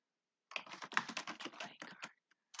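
Fast typing on a computer keyboard: a quick, dense burst of close clicking keystrokes that trails off into a few scattered taps.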